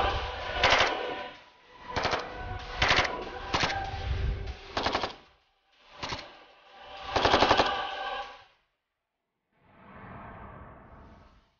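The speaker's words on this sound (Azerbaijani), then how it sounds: "Görünən ərazilərə qısa qatarlarla atəş." A machine gun from a State Border Service commando unit in Yevlakh district fires several short, loud bursts separated by brief pauses, with the gunfire echoing before a final softer burst.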